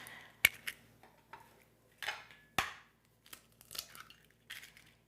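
Whole eggs are cracked into a bowl for a lemon crumble loaf cake, giving a couple of sharp close taps on the rim followed by soft shell crackles and wet drips in a quiet kitchen.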